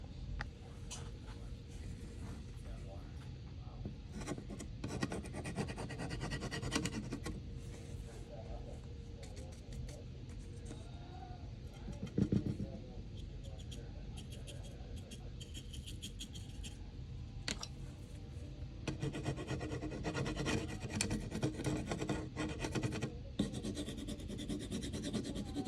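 Scraping and scrubbing an old gasket off a Chevy Silverado 2500 6.0 ABS module, with steady rasping, rubbing strokes running through most of the stretch, bursts growing louder near the end.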